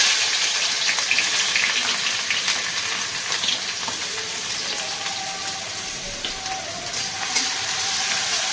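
Onion frying in ghee and white oil gives a steady, moderately loud sizzle, hissing evenly throughout with a few faint bubbling pops and no talk.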